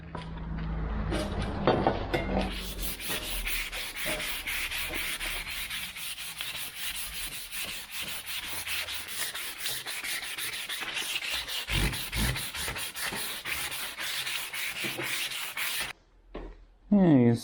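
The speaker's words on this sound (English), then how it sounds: "Now we're going to switch to wet sanding." Hand wet sanding of car paint on an Austin Healey: long continuous gritty rubbing strokes in a steady rhythm, close and fairly loud, ending with a brief pause and a final louder scrape.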